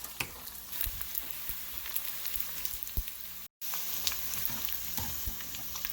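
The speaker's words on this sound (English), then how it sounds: "So you want to just fry this in its own oil, constantly stirring on low to medium heat until it's golden and crispy." Chicken skins frying in their own rendered fat over low to medium heat, a crackling, popping sizzle with stirring scrapes, close up, briefly cutting out midway, no talking.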